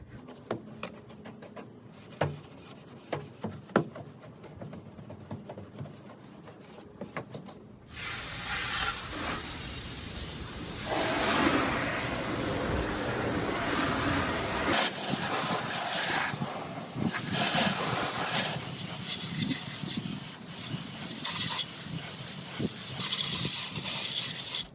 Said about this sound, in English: hit my fender wells with my fender well brush